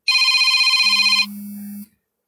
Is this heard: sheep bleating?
no